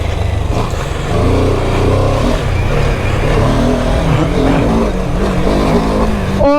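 BMW F 450 GS adventure motorcycle pulling off in first gear without the clutch and spinning its rear tire, engine roaring loud and steady close by, a brief whine at the end.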